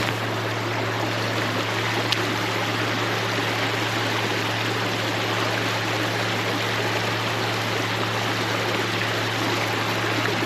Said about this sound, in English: This current is ridiculous up here right now.